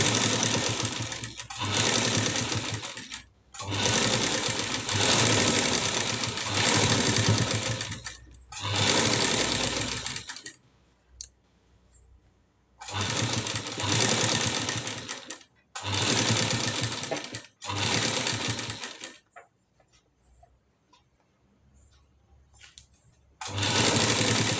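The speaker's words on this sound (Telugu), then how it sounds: "పైనుంచి ఇలా ఒక స్టిచ్ వేసుకుంటూ రావాలి" A sewing machine stitches a blouse collar in several runs of rapid, steady mechanical chatter lasting a few seconds each, separated by quiet pauses, close and without talk.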